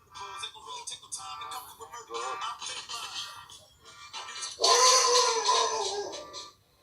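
A dog whimpers in high, thin whines, then breaks into a louder burst of yelping barks near the end, close and clear, with some talking mixed in.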